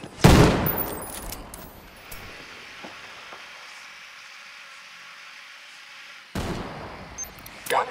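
Heavy gunfire in a video game, with a loud, sharp burst of shots at the start, scattered quieter pops through a rumbling lull, then another loud volley near the end.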